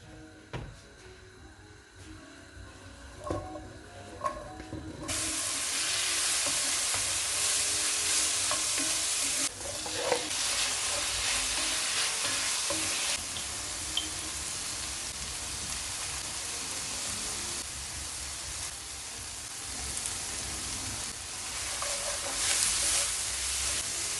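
Small eggplants frying in olive oil in a pot, a steady loud sizzle that starts abruptly after quieter kitchen handling sounds and continues with crackling pops.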